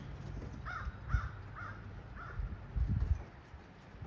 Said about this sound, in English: Freaking crows, get out of here.